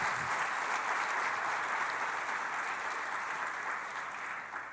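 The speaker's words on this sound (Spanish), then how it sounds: "Vamos a darle fuerte ese aplauso al Señor." A church congregation applauds during a sermon, a steady, even wash of clapping that holds for several seconds and slowly tapers off.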